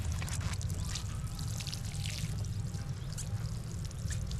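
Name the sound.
water poured onto carrot seed bed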